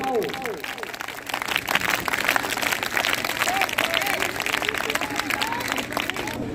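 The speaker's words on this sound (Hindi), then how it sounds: "जोरदार तालियों से स्वागत, जोरदार क्लैपिंग।" An audience at a school's annual function welcomes a comedy poet with loud, sustained applause and crowd noise that fills the whole stretch, with voices calling out over the clapping.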